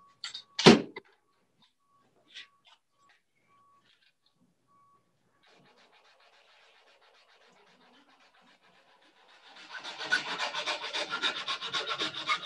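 Hand file rasping the coped end of wooden crown moulding, a continuous scratchy filing that builds to a steady, fairly loud rhythmic rubbing near the end after a few quiet taps and a thump.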